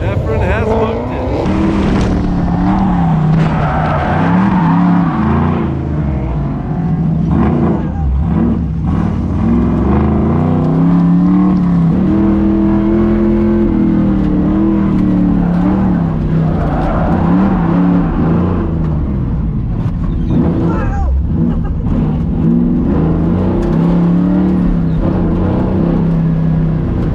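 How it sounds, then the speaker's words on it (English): A drag racing car spinning out at a 2021 NMCA event gives a loud, sustained engine roar whose pitch rises and falls, with excited voices talking over it throughout. "We are spinning, friends."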